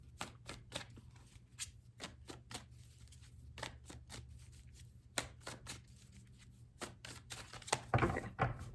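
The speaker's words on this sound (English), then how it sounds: "Cards are so hard to shuffle." Repeated riffling shuffles of a deck of cards, crisp bursts spaced irregularly, close and fairly quiet, with a low hum underneath.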